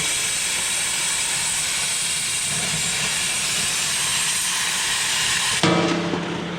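An oxyfuel cutting torch cuts metal with a loud, steady roaring hiss that runs unbroken before cutting off abruptly near the end, with no talking.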